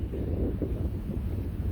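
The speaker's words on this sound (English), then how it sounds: "We got moderate wind." Steady low rumbling wind buffeting the microphone outdoors by a creek, constant and fairly loud with no voices.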